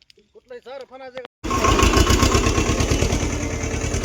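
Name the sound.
tractor engine running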